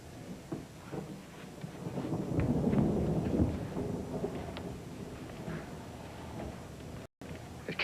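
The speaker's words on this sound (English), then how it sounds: "I've never been in a storm like this before." A heavy thunderstorm rolls on with a low, continuous rumble that swells to a loud peak midway, then settles into a steady roar with scattered crackles. No one speaks.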